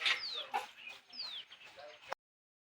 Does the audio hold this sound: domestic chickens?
yes